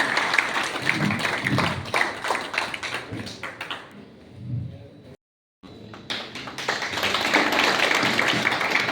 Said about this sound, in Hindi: सब ताली बजाते रहे भाई